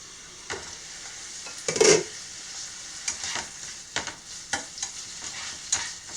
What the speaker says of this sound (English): We want everything to be nice and sauteed. Including the bacon.